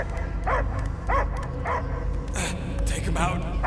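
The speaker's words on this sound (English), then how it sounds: "I hear only barking." Dog barking and whimpering in the Guardians of the Galaxy video game, a few short yips and barks spaced through the moment, mixed with voices and background rumble.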